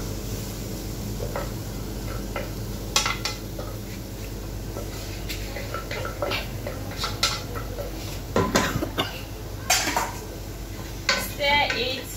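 Cooked rice tipped into a pan and stirred, bringing scattered clinks and scrapes of utensil on cookware over a steady low background hiss.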